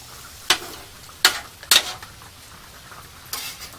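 Pork sizzling in a pan over a camp stove, with a few brief bursts of hissing as pieces hit the hot surface, separated by quieter stretches, close by.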